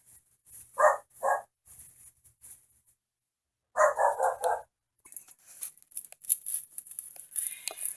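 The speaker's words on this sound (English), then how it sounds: "Julie showed up, and that's what Daisy was barking about." A dog barks indoors in a home kitchen during pasta sauce canning, two short bursts early, then a louder run of four or five quick barks, followed by faint clattering.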